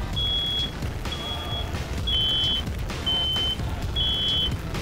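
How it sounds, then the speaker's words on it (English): Two smoke alarms sound shrill beeps in five repeated bursts about a second apart, slightly different tones overlapping, over the rumbling background of a burning university dorm room. "So we got both smoke alarms are going off."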